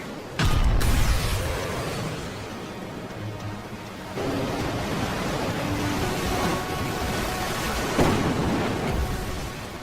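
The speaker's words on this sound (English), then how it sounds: "Now about that storm. I'm getting weird readings on it." A cartoon thunderstorm opens with a loud, sudden crack of thunder that settles into a long, broad rumbling roar. A fainter swell follows later. No voices are heard.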